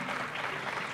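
Applause at an award ceremony welcoming Supreme Court advocate Tahir Aslam, a steady, dense wash of clapping from an audience that holds evenly throughout the moment.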